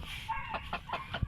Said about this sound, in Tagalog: Chicken na native na may lahing Rhode Island ba?